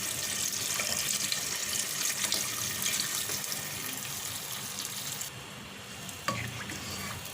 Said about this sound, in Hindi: थोड़ा मज़ीद पानी शामिल करूँगी मैं